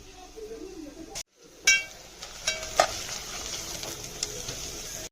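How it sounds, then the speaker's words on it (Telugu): Pumpkin pieces fry in ghee on a low flame for kheer, a soft steady sizzle with a few light clinks and stirring scrapes from a utensil against the pan, close by. "ఆయిల్ మంచి నెయ్యిలోనే ఫ్రై కావాలి"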